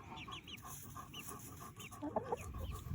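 Backyard chickens clucking and softly calling nearby, a scattered run of short notes over a quiet outdoor background.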